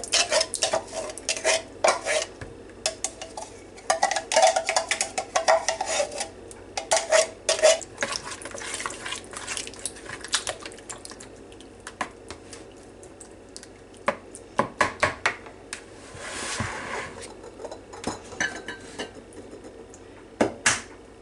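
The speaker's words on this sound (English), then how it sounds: "So it says mix all ingredients together." Cutlery and dishes clatter in a bowl as canned white corn, cream corn and beaten eggs are stirred together for a corn casserole, with irregular scraping and clinks at close range, no talking.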